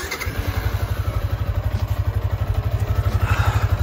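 A motorcycle on its stock exhaust pipe runs at a quiet, even idle, its rapid regular pulses close and steady throughout, a soft putter rather than a loud roar.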